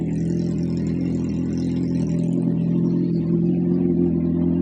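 A motorcycle engine runs close and loud with a steady, rough, deep drone and little change in pitch. It holds evenly throughout with no voices.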